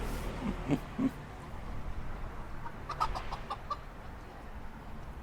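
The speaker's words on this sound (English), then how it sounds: "And some chickens here." A few scattered chicken clucks in Lao Cai, Vietnam, soft and somewhat distant, over steady outdoor ambient noise.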